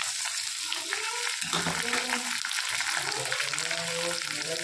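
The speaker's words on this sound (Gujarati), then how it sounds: "એના અંદર આપણે નાખી દઈશું બટાકા" Potatoes hit hot oil with curry leaves in a frying pan and sizzle loudly and steadily up close, a dense crackling hiss with a few stirring scrapes and faint background sounds.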